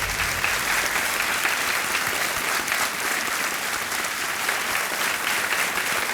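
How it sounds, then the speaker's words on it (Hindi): Loud, thick applause from a quiz show studio audience for a contestant who has just won, sustained evenly throughout without any speech. "तालियां बजती रहें इनके लिए।"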